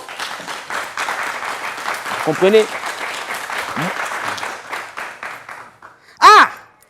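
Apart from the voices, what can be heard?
audience applause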